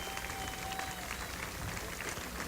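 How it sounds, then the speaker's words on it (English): A parade crowd stands and applauds as the Vietnam Veterans of America march past, a dense, steady wash of clapping heard from a short distance for the whole brief moment. "The crowd stands and applauds as the Vietnam Veterans of America pass by"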